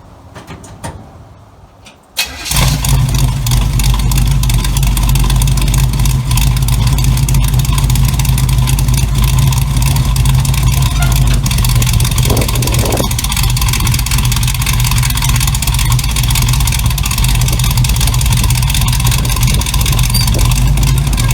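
A 1936 Chevy Coupe engine cranks and catches after a brief quiet moment, then runs steadily and loudly at a rough idle close by, with a low throbbing drone throughout.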